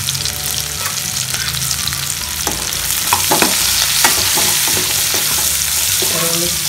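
Cumin and mustard seeds sizzle in hot oil with onion for sambar, a loud, continuous close frying hiss broken by spoon-stirring scrapes and clinks.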